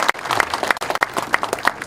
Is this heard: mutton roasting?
no